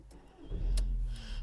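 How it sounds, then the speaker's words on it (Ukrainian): A Volkswagen Golf 4 1.6 petrol engine cranks briefly and catches, settling into a low idle rumble, fairly quiet. "Давайте запустимо двигун."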